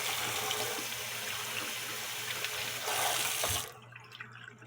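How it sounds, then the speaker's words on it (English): Water is poured into the wooden chute of an E Schmeckenbecher Hofbrauhaus cuckoo clock and leaks out of a screw hole, a steady close rushing trickle that swells briefly before cutting off, leaving faint drips. "You see the water coming out of that screw hole?"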